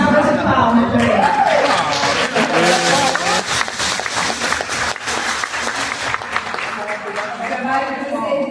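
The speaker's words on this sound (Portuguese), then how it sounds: "Vamos dar uma salva de palmas para ele." A crowd applauds a teacher of Indigenous school education who has been asked to stand, with steady clapping filling the room and voices and laughter mixed in throughout.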